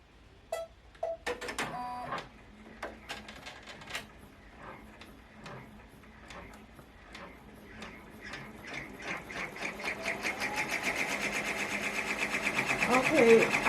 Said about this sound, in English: I'm doing decorative stitches